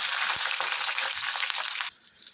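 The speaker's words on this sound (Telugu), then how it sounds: "ఆయిల్ కొద్దిగా హీట్ అయిన తర్వాత ఇందులో జీలకర్ర ఒక ½ టీ స్పూన్, అలాగే ఒక ఆనియన్ అండి, అలాగే ఒక 3 పచ్చిమిర్చి" Cumin, onion and green chillies hit hot oil with a loud, dense crackling sizzle that holds steady for nearly two seconds, then drops away abruptly to near quiet.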